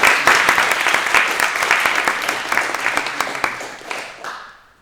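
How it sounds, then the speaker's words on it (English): An audience at a people's summit against a European gas conference applauds to welcome speakers, with loud, dense clapping for several seconds that fades quickly at the end. "maybe a round of applause to welcome them"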